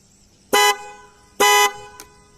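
A dual-tone horn fitted through a relay on an Activa 125 scooter sounds two loud, sustained blasts about a second apart, then a short faint third toot, close and alone.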